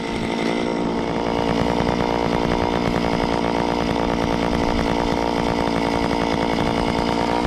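Loud, continuous roar of a motorized ice auger drilling through lake ice, engine buzzing steadily up close with no talking.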